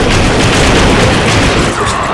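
TNT blows up in the video game Darkwatch, a loud, dense roar of booming blast noise that fills the whole short moment without pause.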